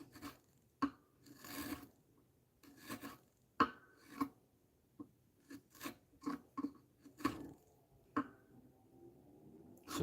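A sharp chisel pares thin shavings from wood up to a marked line, a series of short rasping scrapes and slicing strokes in an irregular rhythm, close and moderately loud, with no talking.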